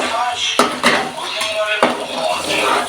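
Onions being stirred in a metal pan during home cooking, with several sharp scrapes and clinks of a utensil against the pan over steady frying noise.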